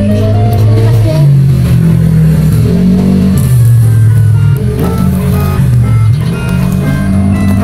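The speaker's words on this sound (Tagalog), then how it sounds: "nakarinig na ng motor" A motorcycle engine revs nearby, rising and falling in pitch through repeated throttle bursts, loud and close, with people talking over it.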